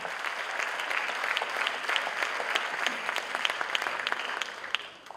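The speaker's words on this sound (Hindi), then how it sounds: "उनके लिए भी जोरदार तालियां हो जाए" A Hindi stage show audience gives hearty applause, a steady roar of many hands with crisp individual claps poking through, holding strong for several seconds before fading out at the end.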